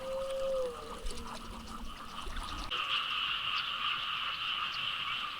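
A dense chorus of frogs croaks steadily after fresh rain in Thailand, layered and continuous, close and fairly loud with no voices over it.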